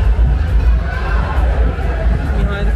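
Dense crowd hubbub fills a busy wedding hall, many overlapping voices and chatter blending into a steady, loud wash of noise with no single voice standing out.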